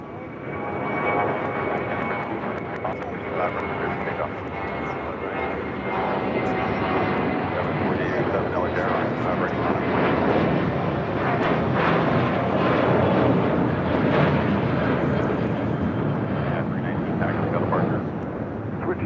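A United Boeing 787 Dreamliner taxis along runway 25 right at LAX toward Terminal 7, its steady engine roar and whine filling the air for the whole stretch, loud and continuous, with a voice talking over it at times.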